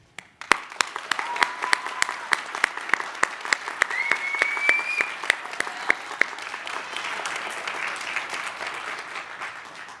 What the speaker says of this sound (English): Let's send our graduates off with one more round of applause.